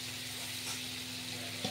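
Fish frying in oil in a pan on a home stove, a soft steady sizzle with light crackle and a faint stir or bump near the end, quiet and close.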